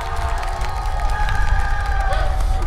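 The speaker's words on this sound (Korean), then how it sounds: "박수 한번 주세요" Concert audience at an outdoor youth festival in Andong clapping and cheering steadily, a dense crowd wash with scattered shouts throughout, loud and close.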